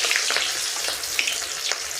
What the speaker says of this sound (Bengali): সেই পেঁয়াজ কাটা আমি তেলের ওপর দিলাম।